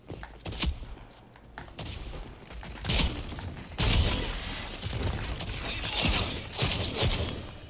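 Shotgun blasts in the video game Rogue Company, a rapid series of loud, sharp bursts at close range mixed with other gunfire and game effects, with a voice talking in between.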